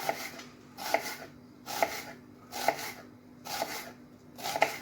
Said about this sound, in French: pour l'émincer, vous faites comme ceci. Des fines lamelles.